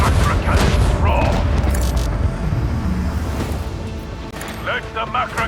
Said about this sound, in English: I want to hear the macro cannons roar.